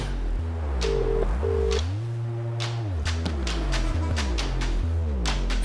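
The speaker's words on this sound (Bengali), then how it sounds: "ওকে ফোন কর, শিবাকে ফোন কর, লাউড স্পিকারে দে।" A telephone in a dubbed Tamil action movie gives a run of dial tones and beeps followed by a ringback pattern, with a low dramatic music bed underneath and short sharp accents.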